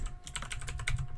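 Rapid clicks of computer keyboard keys typed right beside the microphone, a quick burst of close, crisp keystrokes with no talking.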